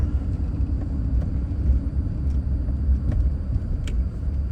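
Steady low road rumble from a car driving through Denver, Colorado, a continuous near engine and tyre drone with no talk.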